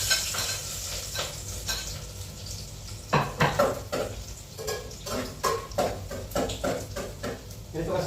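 Garlic dropped into hot cooking oil for chicken adobo, a steady close sizzle under scraping and clinking of a spatula stirring in the pan, with a person talking over it.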